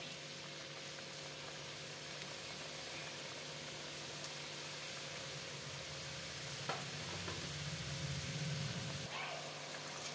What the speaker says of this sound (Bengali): এই যে আমি উলট পালট করে ভেজে নেব।